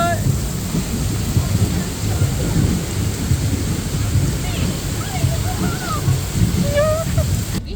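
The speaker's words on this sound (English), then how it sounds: "Look at the rain!" Heavy rain pours at an outdoor market, with deep thunder rumbling beneath a constant roar of water. Faint voices talk in the background.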